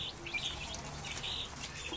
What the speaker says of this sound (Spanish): Ahorita tenemos 15 pollitos.